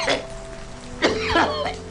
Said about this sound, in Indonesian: bapak yang sejak tadi batuk-batuk